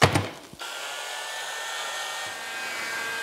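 A heat gun blows on a BMW electric wastegate actuator, a steady loud whooshing hiss with a motor whine, after a brief clatter at the start.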